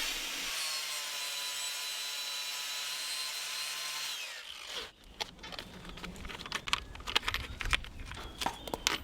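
A medium Scotch-Brite pad rubs over a weld on steel plate for an etch test. A steady abrasive whir runs first, then quick, scratchy back-and-forth scrubbing strokes follow, close and fairly quiet.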